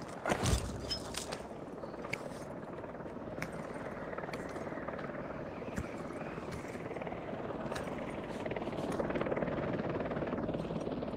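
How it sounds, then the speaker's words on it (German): Helicopters flying in the VR climbing game The Climb 2, a steady rotor drone that holds throughout and swells slightly near the end, with faint clicks on top. "Überall, wo wir klettern, sind Hubschrauber unterwegs."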